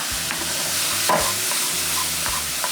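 Jjajang sauce with oyster sauce is stir-fried in a pan, giving a steady, close sizzle with a few spatula scrapes and knocks over a rumbling low background, with no speech.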